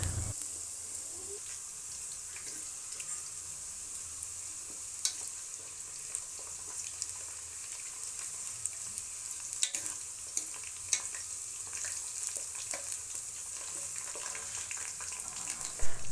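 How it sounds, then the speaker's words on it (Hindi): Onions fry in a pan until browning, giving a soft, steady sizzling hiss. Scattered small pops and occasional stir clicks come through, quiet and close, with no voices. "तो बस यहाँ प्याज जो है बस हमारा ब्राउन हो रहा है।"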